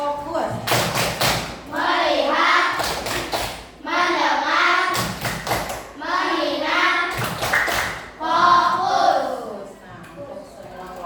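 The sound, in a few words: class doing a rhythmic focus clap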